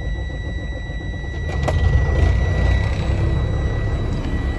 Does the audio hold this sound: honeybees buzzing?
no